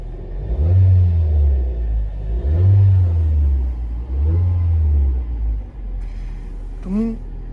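A car engine idles and revs in three slow swells, then settles into a steady hum, loud and close.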